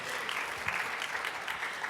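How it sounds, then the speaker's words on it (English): An audience at a political rally applauds a congressional candidate, a continuous, fairly distant patter of many hands clapping steadily throughout. "let's give her a round of applause, even if you don't."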